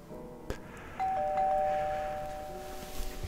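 A doorbell in the video game Little Kite gives one two-tone chime that rings out and slowly fades, quiet and alone after a short click beforehand.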